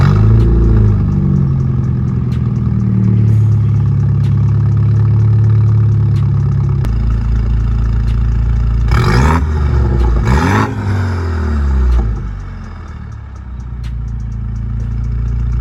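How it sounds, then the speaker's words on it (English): A BMW engine running loud and close, with a steady low idle rumble and two sharp revs around the middle that rise and fall before it settles back to idle. "Let me start it up so y'all can hear it."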